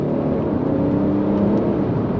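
An Audi S4 accelerates under full throttle, a loud, dense engine roar with a steady rising whir heard from inside the car, continuous and without speech.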